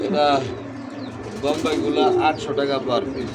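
Bombay pigeons for sale coo in soft, repeated throaty phrases close by, while people talk over and between the calls.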